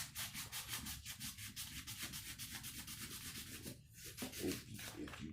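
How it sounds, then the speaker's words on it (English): A surface is sanded by hand with steady back-and-forth strokes, each pass a soft rasping scrape. The rhythm is even and close, briefly pausing near the end, with no talking. "sand evenly the best you can"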